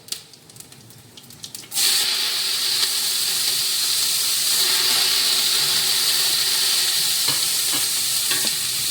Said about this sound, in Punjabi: ਹੁਣ ਅਸੀਂ ਪਾ ਦਾਂਗੇ ਪਿਆਜ਼